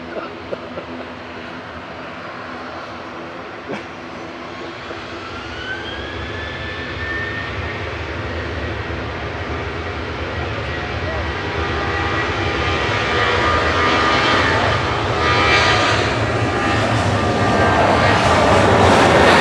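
A 26-year-old Jet2 Boeing 737-800 at Manchester Airport produces a steady jet engine roar that swells gradually louder over the whole stretch, broad and rumbling with a faint rising whine.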